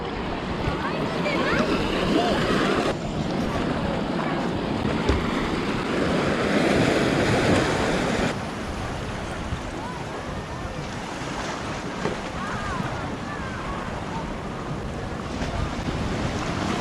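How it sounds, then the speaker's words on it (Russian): Ocean waves wash steadily onto the rocky Basque coast between Mutriku and Lekeitio, a broad continuous roar with heavy wind buffeting the microphone and faint voices mixed in. "pero es que claro, hay olas"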